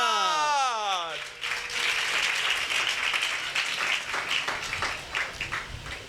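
A congregation applauds during a church sermon, sustained clapping that follows a preacher's voice and carries on for several seconds, filling the room.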